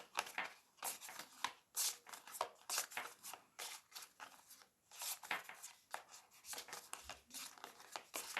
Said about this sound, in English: I am going to go ahead and shuffle this up.